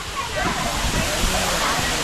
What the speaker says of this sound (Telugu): ఇది వాటర్ ఫాల్స్ అయితే ఈ విధంగా ఉందన్నమాట చూపించాను కదా